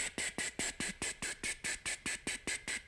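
Tongue tapping behind the teeth during a slow exhale, a brisk regular train of about fifteen airy ticks with breathy hiss, close and quiet.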